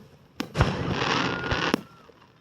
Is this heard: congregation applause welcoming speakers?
no